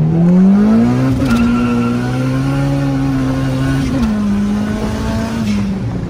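A turbocharged LS VTEC Acura Integra pulls hard from inside the car, its engine droning loud and steady as the pitch holds and shifts slightly through the run.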